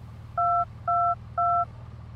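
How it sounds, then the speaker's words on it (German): Telephone keypad dialing tones from a GTA roleplay game: three evenly spaced dual-tone beeps, clear and steady, over a low background hum with no talking. "ich muss noch mal kurz telefonieren gleich"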